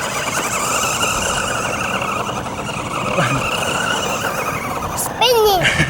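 A Grave Digger RC monster truck spins its wheels in dirt, its small motor whining steadily beneath excited children's shouting, with a sharp squealing burst near the end.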